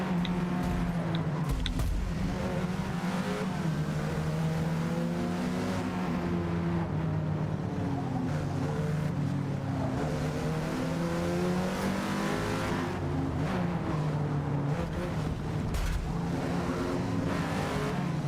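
Racing cars roar through a lap in Forza Motorsport, a steady loud engine drone with shifting pitch and revs running continuously for the whole stretch, no voices over it.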